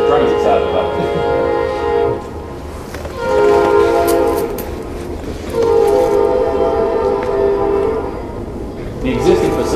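A train passes close by, loud rumbling and rail clatter with repeated long horn blasts rising over it.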